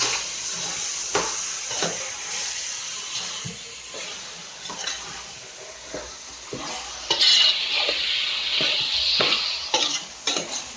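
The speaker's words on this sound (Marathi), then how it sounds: "तर आता सर्व ढवळून घेते" Mutton fries in a pan over a wood-fired clay stove as it is stirred, a soft continuous sizzle broken by repeated scraping and clinking strokes of a spoon, with no speech.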